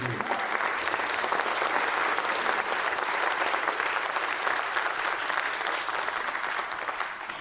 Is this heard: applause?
yes